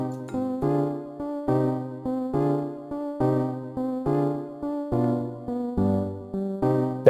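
Simple synthesized melody with notes placed between chords, a steady repeating pattern of bright tones over sustained lower chords, evenly paced and clear with no voices.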